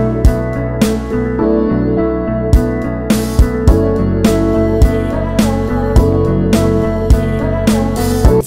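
A steady electronic beat with no drums underneath, sustained chords and bass carrying on while sharp drum hits punctuate it as a fill, evenly spaced throughout.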